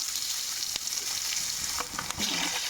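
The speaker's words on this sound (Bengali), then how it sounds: "ফোড়নটা হয়ে গেলে পরে আমি আলু দিয়ে দেবো, আলু দিয়ে ভেজে নেবো" Potatoes frying in a pan of hot oil with tempering spices, a steady hiss of sizzling broken by a few light stirring scrapes, close and continuous.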